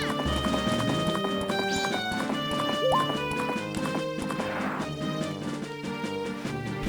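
Horse hooves gallop in Zelda: Majora's Mask as the rider crosses the field, a steady clip-clop rhythm set against the game's layered music, fairly close and even throughout.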